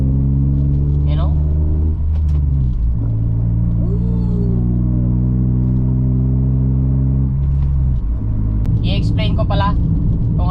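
A Toyota Raize with a full free-flow exhaust and no resonator divider gives a deep, loud rumble. The engine revs up and settles twice in steady sweeps, with someone talking over it.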